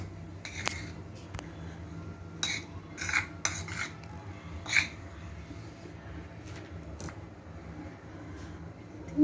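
Cooked vegetables being mixed with oregano and mixed herbs in a pan, giving scattered light clinks and scrapes of a utensil against cookware, close and fairly quiet, with a few brief clusters of taps over a low background hum.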